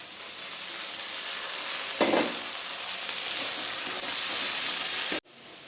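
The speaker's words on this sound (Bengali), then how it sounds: "রসুনটা দিয়ে একটু নাড়াচাড়া করে এবারে দিয়ে দেবো টমেটো আর কাঁচা লঙ্কা সব একসাথে" Garlic, tomato and green chilli sizzle loudly in a pan with a steady frying hiss and a stir partway through, continuing alone without talk.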